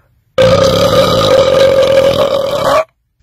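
One long, loud belch after drinking Mountain Dew Purple Thunder, a sustained throaty croak lasting over two seconds, close up and alone, with silence on either side.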